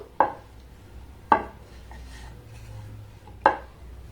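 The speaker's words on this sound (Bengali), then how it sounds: "এবার এখানে আমি প্রত্যেকটা খুব সুন্দর করে বেলে নেব" Yogurt paratha dough being rolled out on a board gives three quiet, separate wooden knocks of the rolling pin, spaced unevenly over a soft, faint background.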